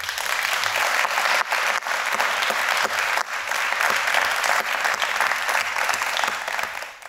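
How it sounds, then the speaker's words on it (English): At an International Day of Peace celebration, an audience applauds Molly Beckley with sustained, even clapping from a crowd that fills the whole stretch before tapering at the end. "I'd like to give a round of applause to Molly Beckley."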